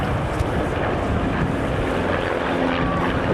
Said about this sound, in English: And Jeff is putting it through its paces to show the principal characteristics of the aircraft, the good handling qualities, the fact that it's fully aerobatic